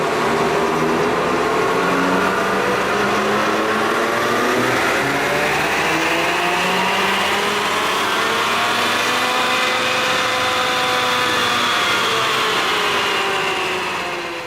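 A 2015 Ford F-150 with the 2.7-liter EcoBoost strapped to a chassis dyno, its engine climbing in a long rising whine through the gears, loud and sustained, then easing off at the end.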